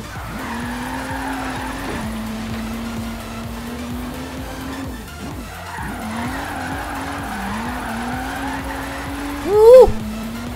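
A Subaru BRZ in the racing game Forza Horizon 3 holds a steady engine drone and sliding tire squeal, the pitch wavering through drifts, with a brief louder screech near the end.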